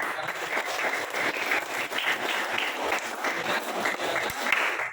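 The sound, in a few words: applause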